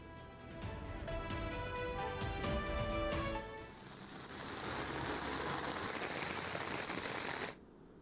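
Heavy rain pours down steadily in Panjagutta, Hyderabad, in a dense, hissing wash. It starts under a busy musical bed, then continues alone and loud before stopping abruptly near the end.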